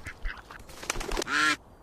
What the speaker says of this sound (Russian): Опа, ты гляди, утка.